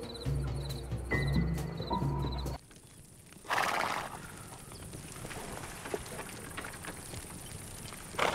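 A horse whinnies loudly at the start, then hooves clip-clop steadily over a quiet outdoor ambience, in the video game Desperados 3.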